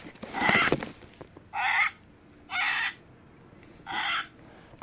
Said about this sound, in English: Okay, here's the scarlet macaw.